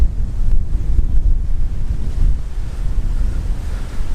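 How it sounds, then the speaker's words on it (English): Strong, steady wind gusts across an exposed touring campsite, a loud continuous low rumble that buffets the microphone with no talk. "quite an exposed area there, so you get a lot of wind in the windy times"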